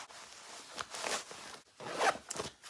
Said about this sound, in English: Zip them up, and you are ready to take on concrete floors